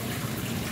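Water runs steadily into a fountain as it is refilled, a close, continuous rushing and splashing with no voices.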